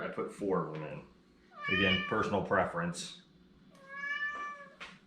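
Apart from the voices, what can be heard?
cat meowing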